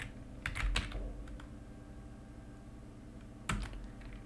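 A computer keyboard is used to type a short command: a few soft, close keystrokes at the start, then quiet, then one more tap near the end over a low steady hum.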